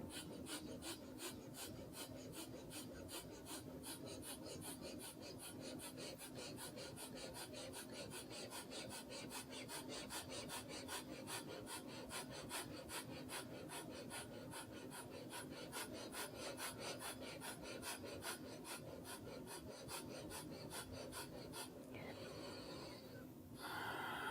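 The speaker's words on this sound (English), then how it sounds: "putting your hands right in the lower belly, between the belly button and just above the pubic bone, and creating this rapid breath" Rapid rhythmic breathing, driven from the lower belly, pulses in quick, even huffs for over twenty seconds, close but quiet, with no talking over it.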